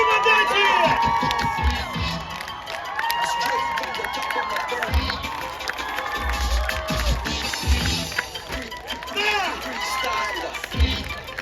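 A large outdoor festival crowd cheers and shouts at a breakdance show during a Youth Day celebration on the Ukhta embankment. Loud, dense whoops and yells rise and fall continuously, with shouting voices on top.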